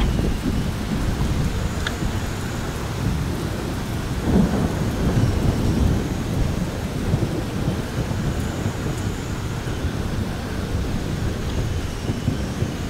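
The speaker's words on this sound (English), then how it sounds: "lightning storm caught up to us" A thunderstorm with rain rolls over a bass-fishing spot, with long low rumbles of thunder swelling and fading over a steady wash of falling rain.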